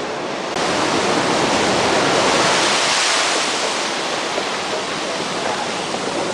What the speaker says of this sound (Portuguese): A onda vindo, Bruno.